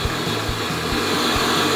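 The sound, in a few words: stand mixer beating at low speed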